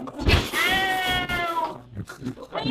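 A performer on a cabaret stage imitates a cat's meow with her voice, one long, loud, wavering call up close, followed by brief vocal sounds.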